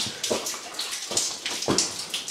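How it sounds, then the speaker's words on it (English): Water runs out of an old underground gold-mine passage in the Dickson decline, a close, splashy flow with uneven gurgling surges repeating every half second or so, and no voices. "Fair bit of water running out of here."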